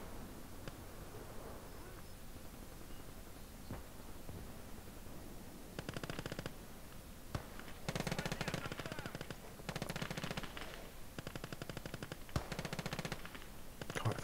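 WWII gunfire from the Gates of Hell strategy game during Operation Bagration, with several rapid machine-gun bursts and a few single shots, fairly faint and distant, against a low background hum.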